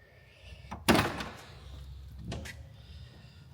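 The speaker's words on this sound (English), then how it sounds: "Door closes perfect." A solid 1965 Ford Mustang Fastback door thunk lands sharply near the start, followed by a softer second knock; close, clear, with quiet ambience around them.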